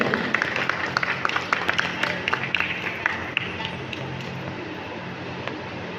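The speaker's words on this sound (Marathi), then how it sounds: "एकदा जोरदार टाळ्या तुमच्या माझ्या आईसाठी" Guests at a baby naming ceremony clap for the mothers, making a moderate, continuous patter of applause with sharp individual claps standing out. It gradually thins toward the end with some background murmur.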